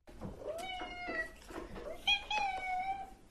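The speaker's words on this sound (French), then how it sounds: "chat" A cat meows several times in a row, drawn-out tonal cries that rise and fall, close and clear with a little background noise.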